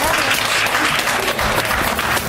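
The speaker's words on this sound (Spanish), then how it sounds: "para quien pido un fuerte aplauso" Audience applause in a bohemian trova bar: a dense, loud burst of clapping from a small crowd, sustained and close for a couple of seconds.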